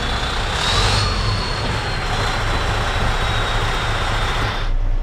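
A Class A truck rolls forward slowly at about 5 mph, then the clutch and service brake bring it to a stop; a steady loud engine rumble and road noise run throughout, alone without talk.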